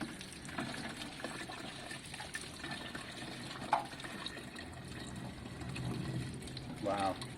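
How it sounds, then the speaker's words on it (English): Fuel sloshes and gushes inside a rusty fuel tank from a 1972 Triumph Bonneville T120 motorcycle as it is flushed, a continuous watery churning with splashes and a brief louder slosh near the end, under light background noise. "we will flush the tank with fuel a couple of times in the same way we're doing now. So we'll slosh it, we'll flush it, we'll slosh it"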